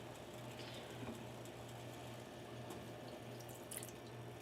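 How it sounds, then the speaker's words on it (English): Water pours into a pot of refried beans with ground beef cooking nearby, a faint steady running-water hiss with a low hum beneath it. "I'm going to add some water"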